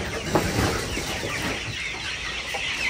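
Farm chickens cluck and squawk close by while being fed bran feed, a dense, steady flock chatter with occasional louder calls over constant background noise.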